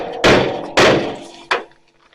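Heavy blows strike a GMC truck hood during repair, two loud resonant whacks followed by a shorter, lighter third hit, close and ringing out briefly with no voices.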